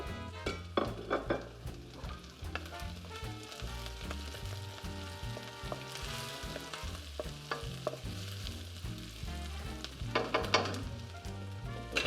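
Onion and red pepper frying in oil for king prawn fried rice, a steady crackling sizzle that runs throughout with bursts of stirring and scraping, loudest near the start and again toward the end, with no talking.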